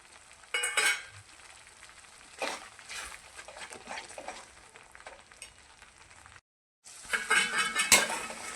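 Spice masala being tipped into a pan and stirred while cooking cashew paneer, with clattering utensil scrapes and soft sizzling, a brief pause, then louder metallic stirring near the end.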